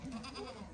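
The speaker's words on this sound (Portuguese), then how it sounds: "A cabra hoje quer briga comigo." A goat on a farm gives a short, quavering bleat, faint and somewhat distant, heard on its own with no talking.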